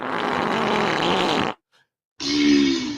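A man imitates a regular fart with his mouth, a loud, sustained rasping buzz of about a second and a half, then a brief silence and a second, lower, droning blast.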